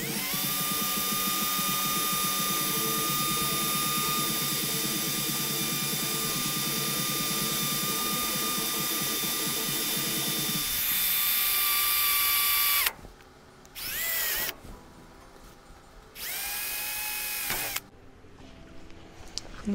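An electric drill boring holes in an aircraft stringer for rivet installation runs steadily and loud for about eleven seconds, then stops and restarts in short separate bursts.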